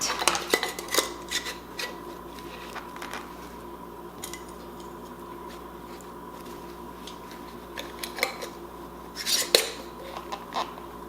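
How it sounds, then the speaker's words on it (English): Metal canning rings being finger-tightened onto hot glass jars of kale, giving scattered clinks and scrapes in short bursts near the start and end, with quieter handling between. "And finger tighten our canning rings"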